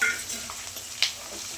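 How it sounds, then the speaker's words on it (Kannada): Finely chopped capsicum fries in a pan for a hotel-style capsicum chitranna, with a soft ongoing sizzle and a short stirring clack partway through. "ನಿಮಿಷ ಈ ಥರ ಫ್ರೈ ಮಾಡ್ತೀವಿ ಕ್ಯಾಪ್ಸಿಕಮ್ ಆ್ಯಡ್ ಮಾಡ್ತಿದ್ದೀನಿ ಇವಾಗ"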